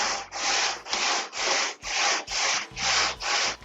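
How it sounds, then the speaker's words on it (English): Body filler on a VW Thing being sanded by hand with a longboard under light, one-handed pressure: eight steady back-and-forth rasping strokes, close and even, with no talking. "Just lightly sand it now."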